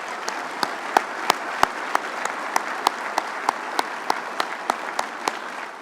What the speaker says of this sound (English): Can we give them all both a round of applause?